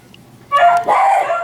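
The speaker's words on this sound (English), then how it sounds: "That's my dog." A pet dog gives a single drawn-out, loud bark lasting about a second, close by in a quiet indoor room.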